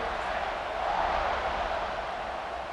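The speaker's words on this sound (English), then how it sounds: "They're set to kick it off, and this crowd now ready to get behind them." Steady roar of a football stadium crowd at kickoff in the CFB 26 college football game, Texas A&M Aggies against Samford Bulldogs, a broad, constant cheering wash swelling slightly midway.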